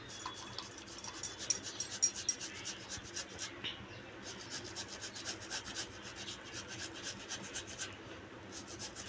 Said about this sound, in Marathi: आता आपण इथे किसून घेणार आहोत